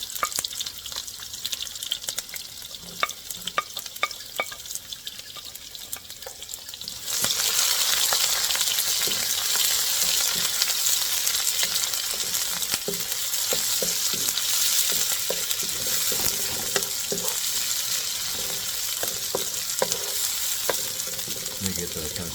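Onion hits hot oil in a pan after the base has turned golden brown, and the quiet background jumps to a loud, dense sizzle with stirring. The frying stays strong and steady to the end, and nobody speaks.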